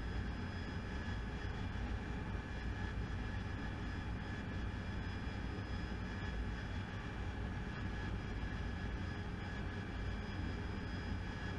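An AV-8B Harrier jet engine in DCS roars as a constant, dense drone at a steady level, with no voices.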